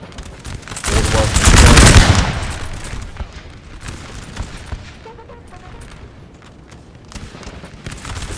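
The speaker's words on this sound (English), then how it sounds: "Frenchies here, they just keep on shooting down this hill." Musket volleys from French troops firing down a hill in a Napoleon Total War battle, Puerto de Baños 1809: a loud rolling crackle of many shots early on, then thinner scattered firing under the battle din.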